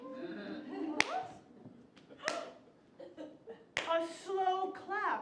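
A single person claps slowly in a comedy improv show, with sharp separate claps set apart by pauses while people talk and laugh around them.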